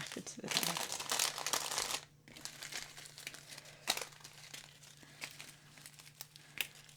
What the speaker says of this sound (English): I'm going to see if I can scoot these back into the bag.